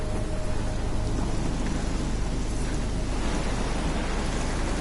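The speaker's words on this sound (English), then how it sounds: "We're in the middle of a storm" Steady, dense thunderstorm rain in Life is Strange, with a constant hiss of heavy downpour and a low rumble of thunder underneath, continuous and fairly loud throughout.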